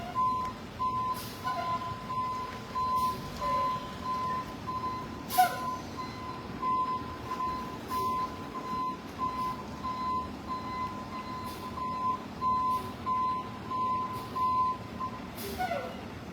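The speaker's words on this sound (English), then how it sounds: "there's the truck there" A truck backs up somewhere nearby, its reversing alarm sounding as a steady run of beeps over a low engine rumble and outdoor background noise, with no talk.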